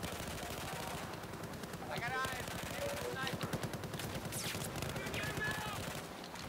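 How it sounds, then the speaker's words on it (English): F2000 assault rifle bursts in Battlefield 4 crackle in rapid automatic strings over a steady game soundscape, moderately loud, while someone talks throughout. "I'm hitting shots with this new F2000"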